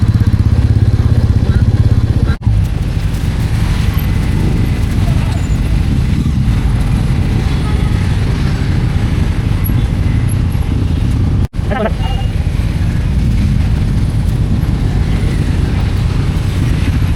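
A motorcycle rides along a scenic road near Sakleshpur with a loud, steady engine drone and wind rush close to the mic, briefly cut twice, while a rider talks.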